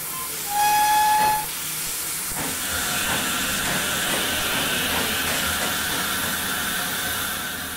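A GWR 14xx steam locomotive in Train Simulator 2015 gives a short whistle note, then a steady, loud hiss of escaping steam carries on continuously, close by and with no talking.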